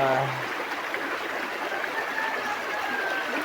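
Shallow creek water flows in a steady broadband wash with a brief voice at the start, nearby and constant throughout.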